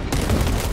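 A dense, loud burst of weapon fire roars without pause in Warhammer 40,000: Space Marine II, a continuous heavy barrage lasting under a second with no speech.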